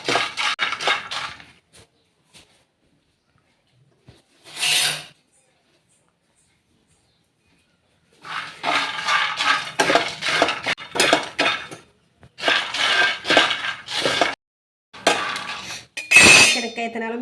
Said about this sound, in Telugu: అయితే శనక్కాయ విత్తనాలు వేపుతున్నా.